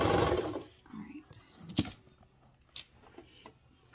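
A sewing machine stitches a straight seam on a toddler reversible swimsuit. There is a short loud whirring run at the start, then scattered quieter clicks and brief mechanical bursts, with soft vocal sounds nearby.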